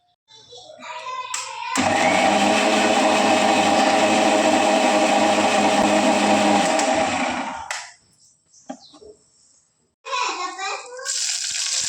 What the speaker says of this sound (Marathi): आता आमटीसाठी मसाला बारीक करते मी